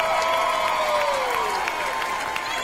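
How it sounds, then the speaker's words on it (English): At an MMA event, a crowd applauds and cheers for the two fighters after the final round, loud, continuous clapping with whoops and shouts, plus a rising and falling tone sounding over the noise. "a round of applause for these two"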